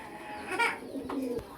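A pigeon brooding on its eggs at a farm coos softly in a short, throaty burst, close by, with faint background noise and no talking.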